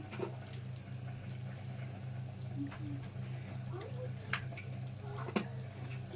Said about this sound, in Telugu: తాలింపు ఇలా వేగేటప్పుడు కొంచెం ఇంగు వేసుకుందాం.